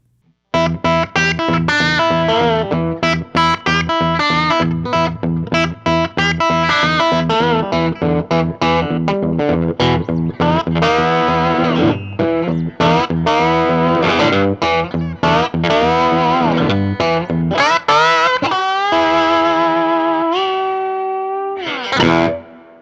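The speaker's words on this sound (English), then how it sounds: "it's like that PAF kind of sound, that early Gibson sort of humbucker tone" A heavily distorted electric guitar plays chunky riffs and sustained chords with a thick, warm humbucker growl, loud and continuous, ending on a ringing note.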